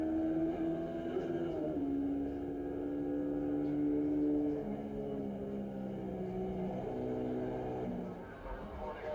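Classic racing motorcycles at the Cookstown 100 road race pass with a steady engine drone that rises and then fades as they go by, under an excited commentator.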